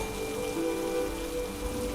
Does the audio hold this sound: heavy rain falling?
yes